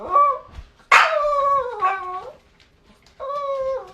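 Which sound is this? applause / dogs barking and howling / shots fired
dogs barking and howling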